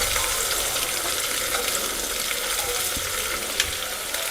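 Chopped beans and carrots sizzle and fry in a pan of vegetables for rice bath, a loud steady hiss with small crackles throughout, close by.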